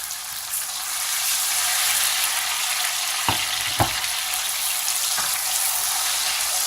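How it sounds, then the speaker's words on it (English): Tomatoes dropped into hot oil in a pan for a plantain and beans dish, giving a steady close sizzle with a few sharp pops and crackles partway through. "So I am going to add the tomatoes."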